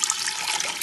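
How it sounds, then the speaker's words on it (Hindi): Water poured into a cooking pot while making Sindhi pulao, after the chicken has been taken out. It is a steady, close splashing rush that lasts the whole moment without any voice over it. "अब मैं इसके अंदर पानी ऐड करूंगी।"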